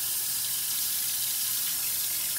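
Hot water pours steadily from a tap into a sink while a plastic refrigerator crisper shelf is cleaned. The rush of water is close and continuous, with no talk over it.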